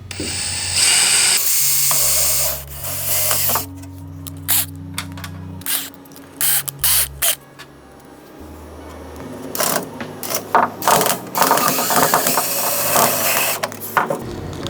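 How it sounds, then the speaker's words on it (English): A power drill bores a hole through sheet metal ductwork beneath a T fitting at the takeoff, running in several loud whirring bursts with short pauses and some handling clatter between them. "Drill a hole underneath the T where it connects to the takeoff."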